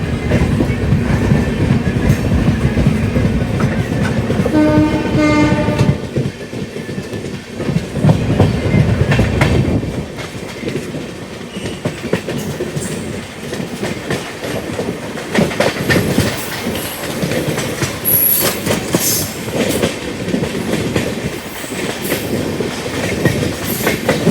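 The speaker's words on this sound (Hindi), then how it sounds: "सामने से एक और ट्रेन अप्रोच कर रही है गाज़ियाबाद।" Rajdhani Express, the Sairang Rajdhani 20508 out of Anand Vihar near Ghaziabad, running loud and close on the rails with a steady rumble and clickety-clack of wheels over track joints, brief squeals and rattling carriages, no voices.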